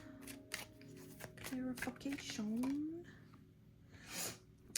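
Tarot cards are shuffled and pulled in quick, crisp riffling bursts, close and soft, while a voice briefly murmurs in between.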